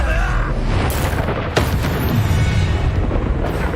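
The Incendio fire spell cast in the Hogwarts Legacy video game: a loud, dense whooshing burst with sharp impacts partway through, laid over a heavy roaring game soundscape.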